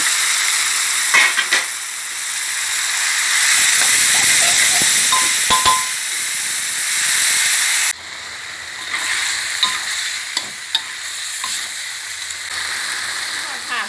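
Blanched shark pieces, about half a kilo, hit a hot wok for a turmeric stir-fry, setting off a loud steady sizzle and hiss that runs throughout, with scattered clinks and stirring knocks.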